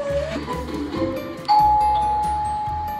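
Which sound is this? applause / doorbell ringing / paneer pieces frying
doorbell ringing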